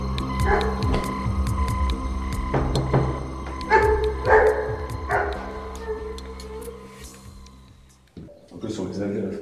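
A dog barks inside a house during a rescue visit with gendarmes, sharp repeated barks and yips in the first half over a steady low hum, with people talking nearby and a brief pause near the end.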